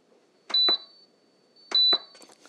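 Menu button presses on an Aroma ARC-988SB rice cooker give two pairs of short, bright electronic beeps, clear and close in a quiet kitchen.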